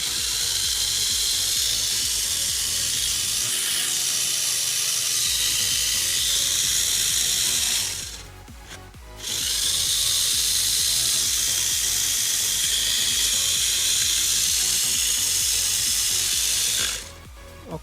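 Tamiya Auldey Spin Axe mini 4WD car motor running, a high steady whine held for several seconds, cutting out briefly twice before stopping.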